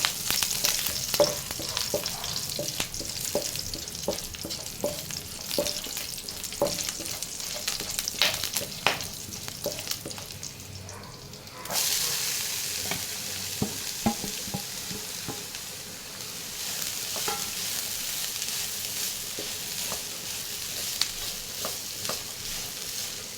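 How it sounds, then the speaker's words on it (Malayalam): Mustard seeds pop and splutter in hot oil with curry leaves, a dense crackling sizzle dotted with sharp bursts and occasional stirring scrapes, close and continuous with a brief dip midway and no talking. "നമുക്കതൊന്ന് കടുക് പൊട്ടിച്ചെടുക്കാം"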